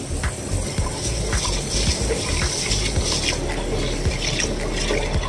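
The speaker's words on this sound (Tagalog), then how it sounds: "Atong kilisan ang buga sa biko." Glutinous rice being washed for biko, with water splashing and gushing close by in an uneven, continuous sloshing stream punctuated by small knocks.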